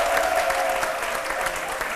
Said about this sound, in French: je vous demande d'applaudir très très très fort